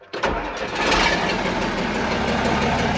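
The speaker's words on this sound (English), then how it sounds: "Listen to how this tractor starts." A tractor engine cranks and catches, then settles into a loud, steady rumbling idle close by.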